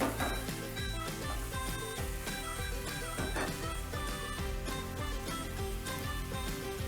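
Beef chow mein ingredients frying in a pan, a continuous close sizzle with clinks and scrapes of stirring mixed over background music.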